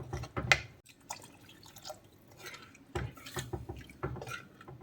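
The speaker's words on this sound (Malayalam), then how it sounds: "ഒരു ഇളം ചൂടുള്ള വെള്ളം ഒഴിച്ചു കൊടുക്കാം" Warm water splashes into a pan of fish curry gravy in short pours and drips, mixed with light clinks of a pot or utensil close by.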